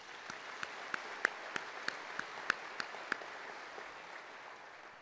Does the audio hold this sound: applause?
yes